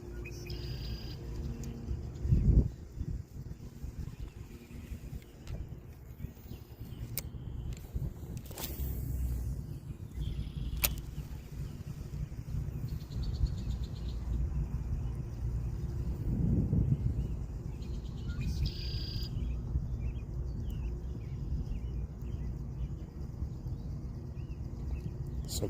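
Quiet outdoor ambience while fishing, with faint, scattered bird chirps over a steady low rushing of a river, and an occasional louder thump.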